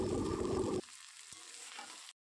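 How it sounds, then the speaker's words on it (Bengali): A loud sizzle from ghee being stirred into a fish-head curry cuts off abruptly, leaving a quieter crackle with a single soft knock from the spoon. "তো ঘিটা দেওয়া হয়ে গেলে এবার কিন্তু খুব ভালো করে মিশিয়ে নেব।"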